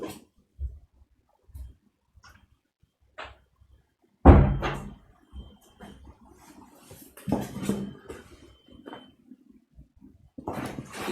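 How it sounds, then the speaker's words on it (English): A door is pushed shut with a sharp, fairly close thud, then a few softer knocks and rattles follow, with faint handling noises in an otherwise quiet room. "I'll just close the door also"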